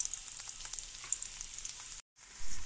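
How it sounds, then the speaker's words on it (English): Onion and green chili fry in a pan with a steady crackling sizzle close by. The sound breaks off briefly near the end, then returns louder. "put onion, green chili, and fry till golden brown"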